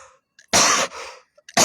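Two sharp, loud coughs from a man close by, separated by a short pause, with faint breathy sounds between them.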